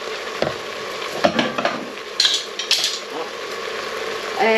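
A spoon clinks and scrapes in a pan of mince beef pie filling, a few light metallic taps over a soft steady sizzle.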